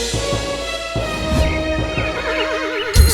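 A horse neighs loudly and close by, a long wavering whinny that rises and trembles, with soft rhythmic hoof-like thumps underneath and a louder thump at the end.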